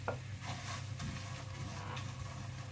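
Seeds being stirred with cinnamon in a stovetop pan for granola, a steady soft scraping and rustling with faint sizzle, close and continuous without talk.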